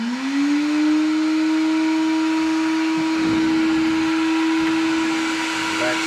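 A Ryobi 40V battery-powered wet vac runs on its lowest setting, giving a steady, fairly quiet motor whine that holds constant throughout, with faint handling noise partway through.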